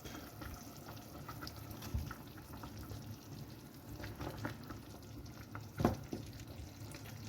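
Lamb shanks cooking in a spiced sauce over medium heat give a faint, steady simmering sizzle with a few soft clinks and bubbles, no voices.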